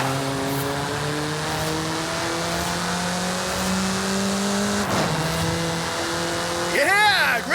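A car in Forza Horizon 5 revs up through several gear shifts, the engine pitch climbing and dropping repeatedly, with a brief tire squeal or swerve near the end.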